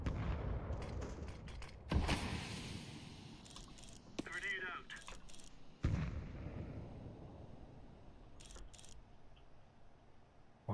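Gunfire and blasts in an online tactical shooter match go off in short bursts, one sharp loud report near the start and another midway, with smaller pops and clatter between them while players talk tensely over the action.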